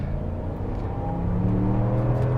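A 2022 Wagoneer Series II's 5.7-liter Hemi V8 idles with a steady, lumpy low rumble from the tailpipe, a continuous close engine drone that swells slightly partway through, with no talk over it.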